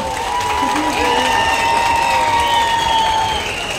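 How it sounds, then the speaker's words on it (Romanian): A crowd claps and cheers before a folk festival stage at the Bacău church feast, sustained applause filling the space while a voice speaks over it and sung tones linger beneath. "Mulțumim la aplauze"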